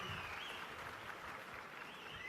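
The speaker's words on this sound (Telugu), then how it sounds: "గట్టిగా చప్పట్లు కొట్టి అభినందించండి" An audience at an Andhra Pradesh event with the Chief Minister honouring the district police superintendent breaks into steady applause, even and continuous, heard somewhat distant and faint with no talk over it.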